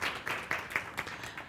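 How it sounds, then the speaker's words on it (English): Fairly faint, rhythmic clapping from a healthcare innovation conference audience, steady hand claps about four per second for a second and a half. "Let's give an applause and we can move on"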